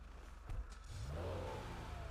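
A car engine in a roleplay driving video game revs up after a couple of brief clicks, rising into a steady, moderately quiet drone with no talking.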